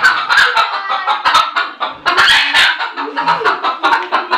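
A country rooster at a farmer's house in a Konkan village clucks and squawks in rapid, overlapping bursts, loud and close throughout with no talking.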